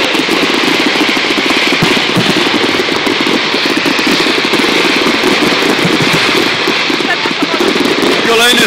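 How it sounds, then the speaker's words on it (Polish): A loud, continuous roar of an airplane engine passes close overhead, with people talking beneath the noise. "Kolejny samolot!"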